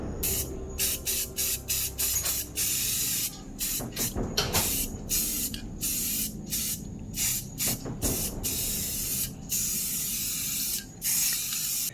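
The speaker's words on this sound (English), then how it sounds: "just put a coat of 1K clear, a pretty heavy coat, on these eyes" Heavy coat of 1K clear aerosol sprayed onto 3D-printed eyes: repeated close, loud hissing bursts of varying length separated by short pauses, with faint handling noises underneath.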